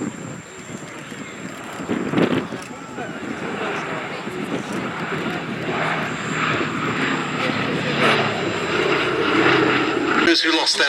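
A B-17 bomber making a final pass at the Duxford Battle of Britain airshow with smoke trailing from two engines to simulate damage, its steady propeller drone swelling slightly under wind noise with a voice talking over it.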